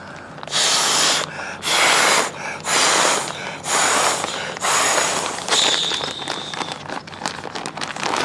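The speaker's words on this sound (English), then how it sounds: "I'll blow it up a little bit more" Strong, close breaths are blown in repeated long bursts into a Therm-A-Rest NeoAir EXP air mattress, each rushing exhale separated by brief pauses, with faint crinkling of the fabric toward the end.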